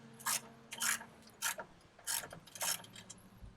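A ratchet driving a universal socket loosens a bolt, giving five short bursts of clicking spaced about half a second apart, close and fairly quiet, with no talking.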